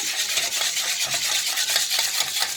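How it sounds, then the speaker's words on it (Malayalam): One egg beaten hard for pumpkin bread batter, a continuous fast swishing and scraping of the whisk in a bowl, close and steady throughout with no talk. "ഒരു മുട്ട. നല്ലപോലെ അടിക്കുക."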